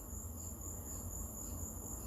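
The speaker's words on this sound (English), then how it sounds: "The crickets have been here pretty much all night." Crickets chirp outdoors on a warm night, a faint, steady high-pitched trill running continuously over low background rumble.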